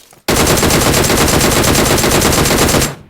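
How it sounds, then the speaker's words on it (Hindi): Gunfire in a video game: a single sustained burst of rapid automatic fire, loud and close, with evenly spaced shots running for about three seconds before cutting off. "आगे से मुझे फायर का साउंड आता है"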